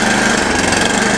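A snow blower engine runs in a steady, loud, close mechanical drone, with no clear start-up or change in pace over the brief moment.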